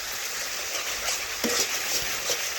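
Chicken masala being stirred with added salt in a cooking pan, a steady close scraping and soft sizzle with a few louder clinks of the spoon against the pan.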